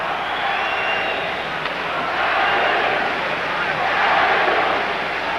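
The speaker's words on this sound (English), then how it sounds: "Crowd chanting, Eddie Westfall." A large arena crowd at a 1978 NHL Stanley Cup quarterfinal between the Maple Leafs and Islanders keeps up a steady, rolling chant, sustained and fairly distant, swelling slightly in waves.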